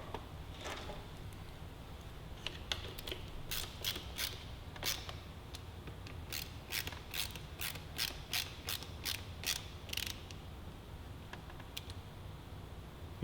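Ratchet tightening fasteners on a Cox Racing radiator and oil cooler guard fitted to a 2015-16 BMW S1000RR, bursts of quick, light clicks with short pauses, close but fairly soft.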